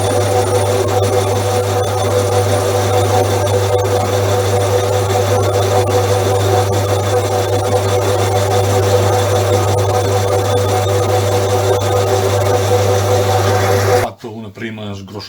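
A homebuilt lathe machining a large tube runs with a loud, steady mechanical hum and faint cutting whine, continuing unbroken before abruptly stopping near the end.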